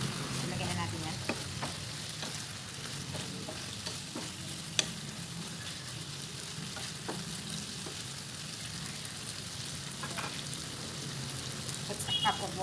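Potatoes added to a chicken curry, frying and being stirred, giving a continuous sizzle with scattered scraping and tapping clicks from the spoon, close by, while a person talks over it.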